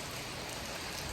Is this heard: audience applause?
no